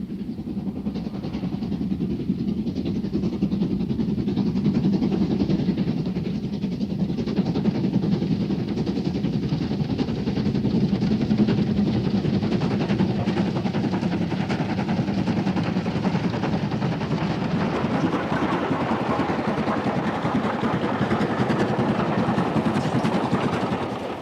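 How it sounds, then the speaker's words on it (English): Steam locomotive working hard on the scenic Highland Railway main line to Perth, a steady loud rumble and rapid chuffing that holds close and continuous throughout with no voices. "Rare opportunity to see steam in action on the scenic Highland Railway main line to Perth."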